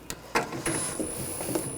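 A screw is tightened on the headlight assembly of a 2014–2020 Nissan Rogue, giving a few close, quiet ratcheting clicks and scrapes in an irregular rhythm, with no voices.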